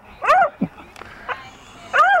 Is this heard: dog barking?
yes